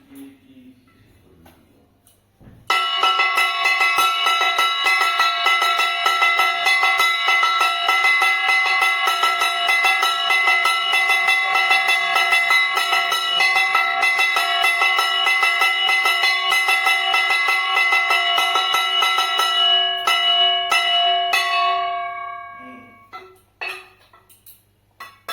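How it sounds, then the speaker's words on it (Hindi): A kansa metal bell or bell-metal plate struck during a Navratri puja rings out with a bright, sustained metallic tone for nearly twenty seconds, then fades into a few scattered clinks and near-silence. "ये जो ध्वनि आपने अभी अभी सुनी, हमारे यहाँ इसको काशा की ध्वनि बोलते हैं, जो कि बहुत शुभ मानी जाती है।"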